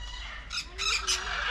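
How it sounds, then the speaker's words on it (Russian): Several parrots squawk in short, harsh bursts inside an aviary at a dendropark in Batumi, loud and close with brief gaps between calls. "мы сейчас подошли к другим вольерам, где находится огромное количество попугаев"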